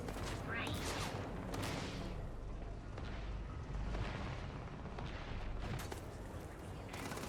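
Security guards firing guns in Starfield, a scatter of distant sharp shots and booms over a dense, noisy background, with voices mixed underneath.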